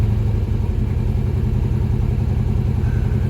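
A vehicle engine idles in a home driveway, a steady low mechanical rumble with a faint clattering pulse running evenly throughout, close and constant with no talking.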